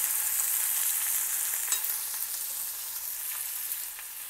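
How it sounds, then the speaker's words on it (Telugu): Sliced onions fry in a pan, softening without browning for a tiffin-centre style chutney, giving a steady soft hiss and sizzle that fades slightly over a few seconds, with no talking. "మెత్తబడే వరకు వేయించుకోవాలి."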